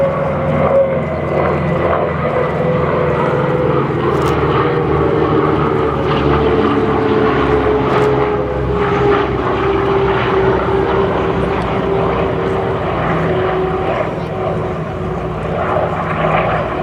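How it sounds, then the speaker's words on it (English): Several radial-engine aircraft flying in formation at a military airshow produce a steady, loud propeller drone that holds throughout with a slowly shifting pitch and no talking. "We'll let you hear the sound of these wonderful radial engines."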